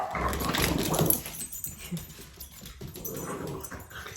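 A dog wanting to play during an indoor yoga session makes soft whimpers, grumbling growls and small vocal noises, close by and moderately quiet, with irregular bursts over a few seconds.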